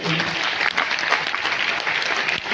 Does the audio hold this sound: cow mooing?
no